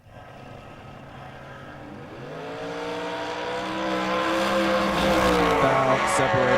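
Drag racing cars launch down the strip at a Thursday event, their engines rising from a low rumble into a loud, building roar that climbs in pitch and grows steadily louder over several seconds.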